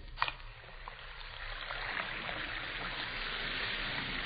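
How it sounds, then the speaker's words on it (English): Two Alka-Seltzer tablets fizz in a glass of water, a dense, steady sparkling hiss that carries on evenly, fairly close and soft, with no voices. "You hear that fizzing, sparkling sound?"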